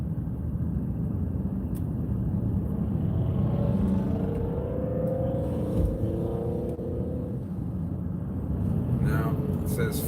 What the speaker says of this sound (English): There's that same car.